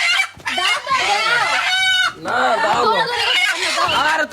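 Village chickens clucking and squawking loudly and close in a busy, almost continuous stretch, with a voice talking over and among the birds.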